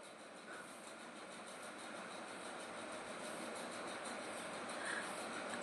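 A train rolls across the Prakasam Barrage with the gates raised and water surging below, giving a steady, continuous rumble and broadband wash that swells slightly and holds throughout, without voices.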